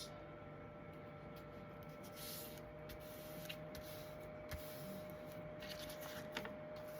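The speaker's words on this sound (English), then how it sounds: "we'll fold it up and create our pocket" Paper is folded by hand to make a pocket on an embellished paper bag, giving soft, close rustles and creases with a few light taps over a steady background hiss.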